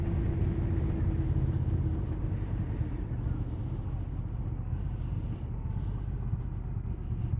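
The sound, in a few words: Honda Rebel 1100 motorcycle engine braking while riding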